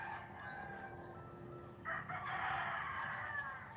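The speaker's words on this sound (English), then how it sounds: "Daylight comes, they start crowing." Several roosters crowing at daybreak, drawn-out cock-a-doodle-doo calls that overlap and swell midway, heard from a moderate distance over steady outdoor background noise, with no talking.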